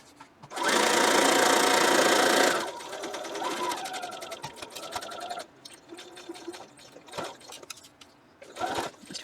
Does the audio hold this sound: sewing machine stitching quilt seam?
yes